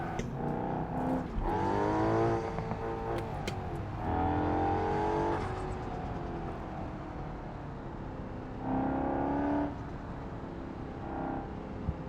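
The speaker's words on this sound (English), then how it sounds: "The beauty of a turbocharged supercar is that you have a really light engine that can deliver a lot of power." A turbocharged supercar is driven hard through corners, its engine rising and falling in repeated loud revving surges with gear changes, heard from inside the car with no talking.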